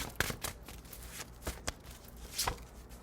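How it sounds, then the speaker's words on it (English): Tarot cards being shuffled and drawn from a deck, heard as several quiet, sharp riffling snaps and flicks spaced irregularly, close and soft against near silence. "Let's go ahead and pull 2 more cards for my collective."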